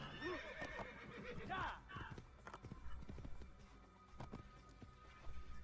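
In the video game Assassin's Creed, a horse gallops with a rapid clip-clop rhythm and lets out a loud neigh early on, then keeps running, quiet and close, while a voice talks over it.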